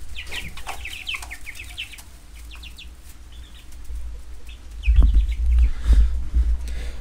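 Young chicks cheep in quick, high bursts and cluck at close range over a low rumbling background that grows louder near the end.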